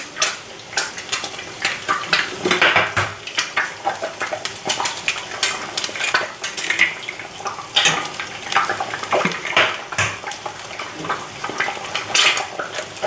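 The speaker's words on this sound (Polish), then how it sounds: "już jajka nam się smażą" Eggs sizzle and crackle steadily in a hot pan, with scattered sharp pops and occasional clinks of a utensil against the pan.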